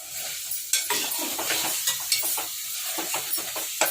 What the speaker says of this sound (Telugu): ఇప్పుడు 1/2 కేజీ కీమ వేసుకోవాలి.